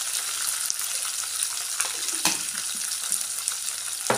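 Curry leaves and ginger garlic paste stirred in a hot pan for cauliflower curry, a constant sizzle and frying crackle broken by occasional sharp scrapes of the spoon, close and fairly loud with no voices.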